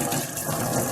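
Cooking water pouring off boiled rice for soya tomato pulao into a colander, a steady broadband rush of draining liquid that stays even and close throughout the brief moment.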